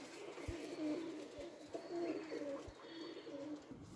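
Pigeons coo steadily at a bird seller's in Lahore, with soft repeated coos and wing shuffles close by in a busy loft.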